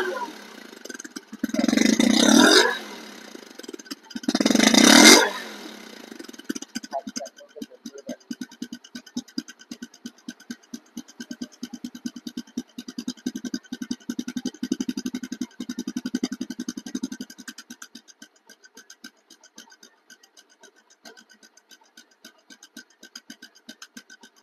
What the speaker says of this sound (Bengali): তো চলুন এই বাইকটি সাউন্ড শুনুন আপনারা।